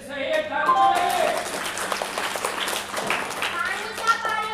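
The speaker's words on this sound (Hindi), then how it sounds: "ताली बजाइए।" Schoolchildren at a morning assembly clap together in a lively burst of applause, close and fairly loud, with children's voices mixed in.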